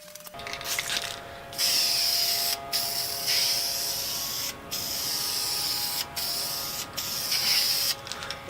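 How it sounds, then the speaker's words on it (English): Spray paint hisses in long bursts with short pauses as white coats go onto unprimed wood, with a faint steady tonal hum underneath and no talking. "I am here to paint the wood that is not primed already."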